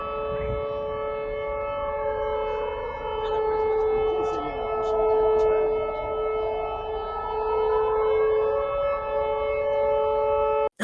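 An air raid siren wails continuously for about ten seconds, a loud sustained rising and falling tone carrying over a wide area, with a second siren layered faintly underneath and no voices.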